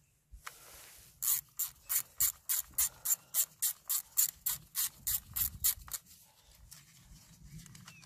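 Ratchet clicking in a quick steady burst of about fifteen sharp strokes while a fuel rail is removed from a 1.6 HDi 90 or 110 hp diesel engine, close up, followed by quieter handling and rubbing noise.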